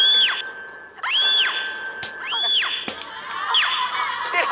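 A woman's piercing, very high-pitched scream from a horror movie, repeated in three rising-and-falling shrieks about a second apart, loud and close, with a noisy crowd-like background behind them.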